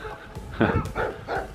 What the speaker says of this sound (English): and lots of dogs barking